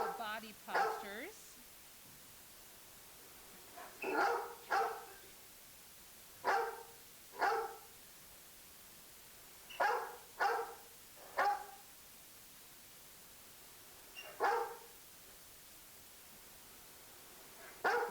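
A dog barks in short bursts, about a dozen single and paired woofs spread evenly with quiet gaps between them, at moderate level and fairly close.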